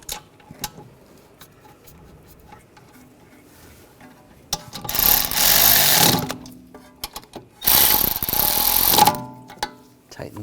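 Rear caliper bolts on a 2009-2017 Volkswagen Tiguan tightened with a ratchet, two loud buzzing bursts of rapid clicking after quieter scattered taps and clinks.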